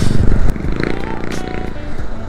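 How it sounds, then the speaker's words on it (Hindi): A small motorcycle with a modified exhaust silencer, ridden on a street in Japan, gives a low, steady engine rumble close by, with a voice talking over it. "इसने साइलेंसर मॉडिफाई करवा रखा है तो आवाज़ कितनी प्यारी आ रही है।"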